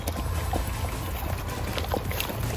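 Water pours and trickles steadily as a houseplant is watered, with a low rumble and scattered small splashes and clinks throughout.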